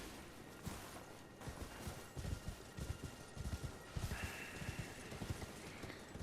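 Rhythmic hoof clip-clops from a horse in the video game Elden Ring, steady and moderately loud over a bed of game ambience and noise, with no talking.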